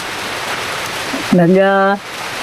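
Steady rain falls in a broad, even hiss throughout, with a person's voice briefly speaking over it midway.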